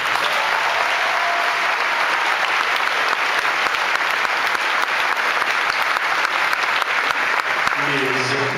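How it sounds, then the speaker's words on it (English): A graduation ceremony audience at Ravena Coeymans Selkirk in 2012 applauds students: dense, sustained clapping from a large crowd that holds steady and loud for the whole stretch, with a brief low voice near the end. "We're going to give each of them a round of applause"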